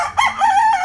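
A single close, loud rooster crow rings out in a short burst with no talk.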